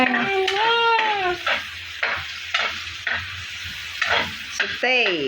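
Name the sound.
sauteing ground pork in a pan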